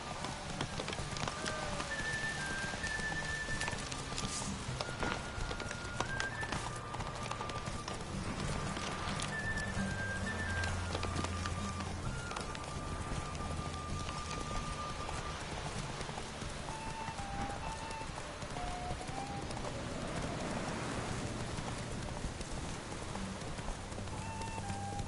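Roach the horse galloping in The Witcher 3, rhythmic hoof clip-clops with an occasional neigh, over a steady rain-like wash and game music, continuous at moderate level.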